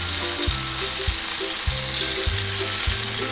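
Salmon fries in butter in a pan, a continuous close sizzle with soft bubbling and faint spatters, steady and unbroken with no voices.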